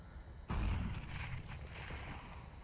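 Grenade blasts go off in a CS:GO match on the Overpass map, a sudden deep boom followed by a rumbling, crackling tail of smaller bursts at moderate distance.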